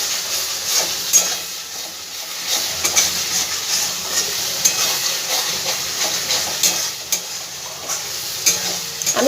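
Spice masala for sweet-shop style Bengali chana dal fries loudly in oil in a pan, a steady hissing sizzle broken by frequent close spatula scrapes and stirring strokes throughout.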